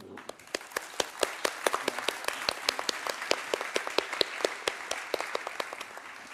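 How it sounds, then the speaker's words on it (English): A small conference audience applauds the panelists at a cities climate mission event, sparse, distinct individual claps in a fairly quick irregular rhythm, close and clear, lasting several seconds. "let's give them a round of applause"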